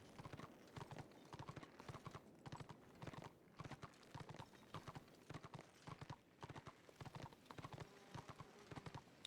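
A horse gallops in the online game Return of Reckoning, with steady rhythmic hoofbeats repeating close and clear for the whole stretch and a faint voice underneath.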